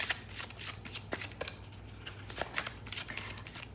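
Tarot cards are shuffled close by in quick riffling bursts, a run of crisp papery flutters with short pauses between them and no talking over them.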